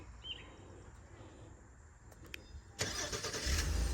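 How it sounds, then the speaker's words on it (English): A 2023 Honda Ridgeline engine started remotely from the key fob: quiet outdoor ambience with a couple of faint clicks, then the engine abruptly cranks and catches into a steady, moderately loud idle nearby. "it blinked, it started, the engine's running"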